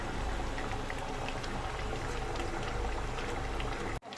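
Rohu fish curry with potatoes, green chilli and coriander leaves boils in a pan, giving a steady close bubbling and hissing simmer that runs without a break and cuts off abruptly at the end.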